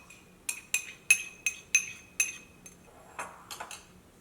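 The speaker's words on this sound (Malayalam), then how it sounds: "ഇതെല്ലാം കൂടിയിട്ട് നന്നായിട്ടൊന്ന് മിക്സ് ചെയ്യുക" A spoon stirs soaked semolina into bhatura dough in a bowl, giving a run of about ten crisp, close clinks and taps at a quick, uneven rhythm, then softer scraping, with no talking.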